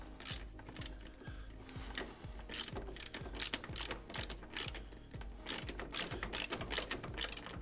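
A ratchet tightens Loctite-treated screws on a car kick panel during an MTX Audio speaker install, giving steady, close rapid clicking strokes in repeated bursts with no talk.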